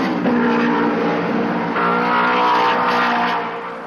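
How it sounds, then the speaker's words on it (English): Mercedes straight-eight Grand Prix race car engines from the mid-1950s era, a sustained, crisp engine drone with rising revs, loud and continuous as the cars run. "The straight-eight Mercedes engines sounded crisp and powerful"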